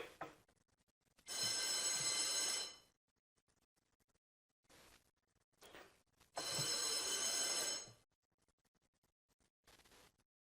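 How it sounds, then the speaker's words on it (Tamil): An assembly quorum bell rings in long electric bursts, two sustained loud rings of about a second and a half each, separated by shorter clicks and brief buzzes in a quiet hall. "அழைப்பு மணியை, அதாவது கோரம் பெல் 3 முறை ஒலிக்க செய்வார்கள்"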